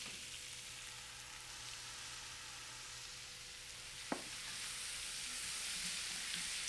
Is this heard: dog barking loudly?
no